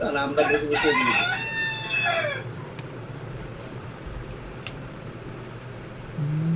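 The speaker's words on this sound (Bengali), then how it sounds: "আপনার মোরগটা রাতের বেলা ডাকে কেন?" A rooster crows at night indoors, a loud, close, drawn-out call in the first couple of seconds, followed by quiet room tone and a person speaking.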